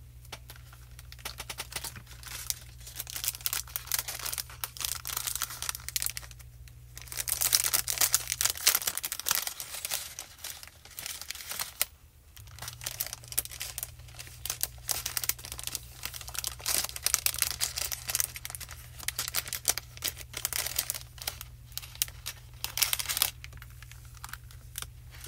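Paper crinkles and snips as a holiday ornament is cut out by hand, with close, irregular crackling and rustling over a low steady hum, briefly quieter midway.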